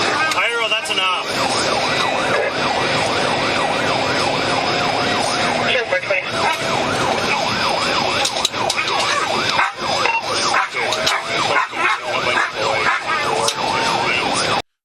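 A sheriff's deputy's patrol car siren wails loud and close during a high-speed police chase, its rising and falling sweeps breaking into faster, choppier yelps over roaring road and engine noise.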